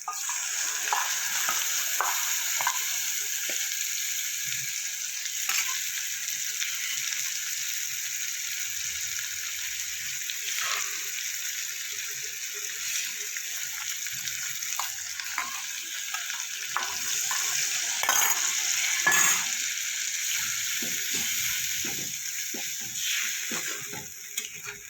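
Prawns cooking with ginger, garlic and a yogurt and ground-spice mixture, fried and stirred in a pan; a loud, dense sizzle continues throughout, broken by frequent scrapes of the spoon, without speech.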